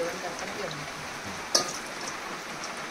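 Garlic frying in a pan over a wood-fired stove for crab curry, a steady close sizzle with one sharp clink of a utensil and someone talking over it.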